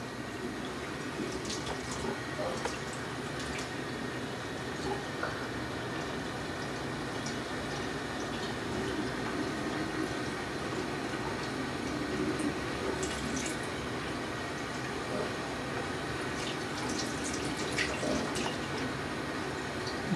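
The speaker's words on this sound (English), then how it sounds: "Rinse the razor off in the water." A razor is rinsed under a steadily running tap, giving a continuous close rush of water with faint splashes and drips throughout, no talking.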